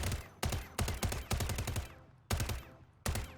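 Custom Echo Endo gun from the Ecstatic Entropy Mastercraft bundle firing in a video game, loud bursts of shots with a musical record-scratch and piano-like tone, several separate volleys with short pauses between them.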